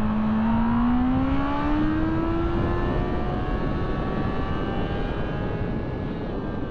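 A Honda CBR 650R motorcycle accelerates hard in first gear, its engine note climbing steadily in pitch, then holding a loud, continuous whine throughout.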